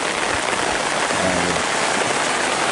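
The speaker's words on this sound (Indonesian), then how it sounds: "Aduh, hujan ya, sahabat." Steady rain falls over a remote village in rural Sukabumi, a dense, continuous hiss of drops with no break across the short stretch, loud and close, with a faint low hum beneath.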